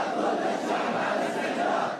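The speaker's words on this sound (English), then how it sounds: "The crowds chanting, "Jihad, Jihad, all the people are ready."" A large protest crowd in Yemen's capital chants in unison, a dense, loud roar of many voices sustained throughout with rhythmic swells.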